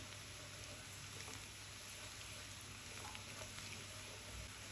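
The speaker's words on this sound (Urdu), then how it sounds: "پیاز آہستہ آہستہ براؤن ہو رہا ہے" Finely chopped onion, half a medium one, frying and browning in a pan for Pakistani maash daal, a faint, steady, hissing sizzle with no talk.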